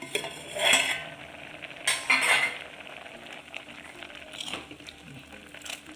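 Metal spoon clinking and scraping in a cooking pot while taro leaf curry simmers, a few distinct stirring bursts over a quiet background.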